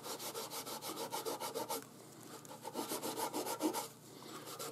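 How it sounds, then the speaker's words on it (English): A buffing cloth rubs polish over a scratch mark on a violin in quick, rhythmic back-and-forth strokes, close and steady, with a short pause partway before the scrubbing resumes. "when I use a buffing cloth on there"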